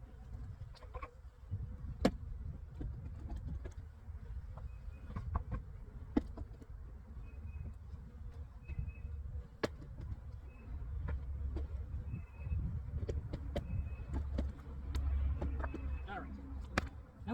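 Bees buzz in a steady, low hum close by around a hive during a queen release, with sharp buzzes darting past now and then and faint muffled voices underneath.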